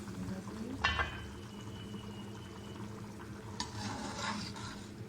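Kashmiri Shahjahani gosht with bay leaf cooking in a pot, giving a soft, steady bubbling simmer with a couple of brief clinks and stirs, quiet and close, with no talking.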